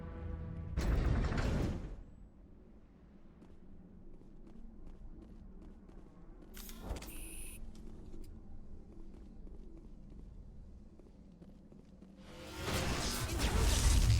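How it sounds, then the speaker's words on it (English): A prison cell door opens in the Mass Effect video game, with a mechanical whoosh and whir and later gear-like ratcheting over a low ambient hum, framed by loud bursts of sound at the start and end. "I'm opening your cell, but then you're on your own."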